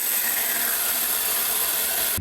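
A chainsaw bites through rotten wood, a steady dense rasping roar held close and loud for about two seconds before cutting off abruptly.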